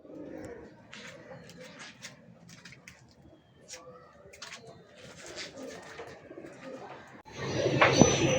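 Pet pigeons cooing near at hand in a home loft, soft repeated throaty coos in short phrases, with a louder burst of rustling noise near the end.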